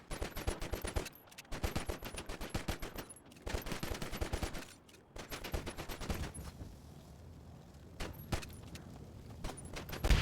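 Rapid automatic gunfire in GTA V, shooting at a Kawasaki H2R motorcycle in repeated bursts separated by short pauses, loud and sharp with quick rattling shots.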